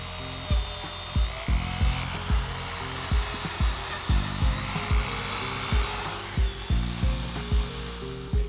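A drill fitted with a 500-grit sanding disc sands the surface of a foggy plastic headlight, giving a steady whir broken by regular thumping pulses about twice a second, with no talk.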